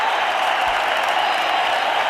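A Mumbai crowd at an India versus Australia Test cricket match in 2009 cheers and applauds in a dense, steady roar that holds at the same loud level for the whole moment.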